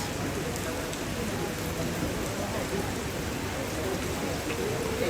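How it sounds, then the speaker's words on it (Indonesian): Heavy rain pours down steadily, a dense, even hiss of drops on surfaces that stays loud and unbroken from start to finish. "Hujan sangat deras."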